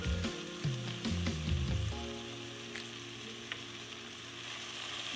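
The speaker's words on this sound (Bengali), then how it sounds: "সমস্ত সবজি আমার ভালো করে ভাজা হয়ে গেছে।" Mixed vegetables with mushroom, corn and peas fry in a pan for mushroom fried rice: a burst of stirring clatter for the first two seconds, then a steady close sizzle alone.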